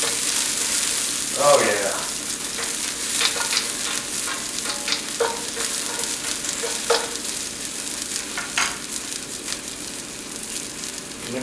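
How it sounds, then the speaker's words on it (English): Onion frying in a hot pan for fried rice gives a continuous bright sizzle, with intermittent scraping stirs of a utensil against the pan; a person briefly speaks over it. "I'm gonna throw my onion in there next"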